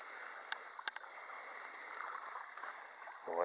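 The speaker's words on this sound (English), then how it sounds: "the sound of that water is nice" The Conasauga River flows past in a gentle, steady wash of moving water, faint and close, with a couple of small knocks and a brief low rumble near the end.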